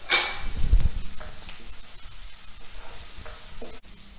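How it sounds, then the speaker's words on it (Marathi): Tomato, ginger and cashews fry in a pan with a close, soft sizzle and scraping stirs, loudest at the start and then settling into a quieter crackle. "आलं आणि काजू हे छान भाजून घेणार आहोत."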